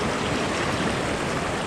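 Fast-flowing stream water rushes in a steady, dense broadband roar, close and loud with no pauses, without any voices over it.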